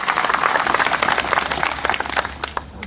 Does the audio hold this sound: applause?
yes